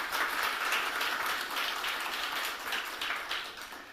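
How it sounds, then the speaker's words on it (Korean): Church congregation applauding a deacon newly elected as elder, a steady wash of clapping from a moderate distance, easing slightly toward the end. "우리 박수로 함께 좀 축복하도록 하겠습니다."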